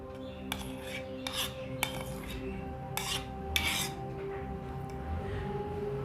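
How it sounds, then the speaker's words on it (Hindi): Ghee being stirred into homemade havan samagri, a dry mix of herbs and ingredients, with a utensil clinking and scraping against a metal vessel in several sharp strikes over a steady low background hum. "अब हम इसमें घी मिश्रित करते हैं"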